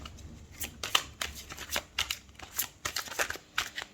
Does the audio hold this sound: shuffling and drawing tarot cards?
yes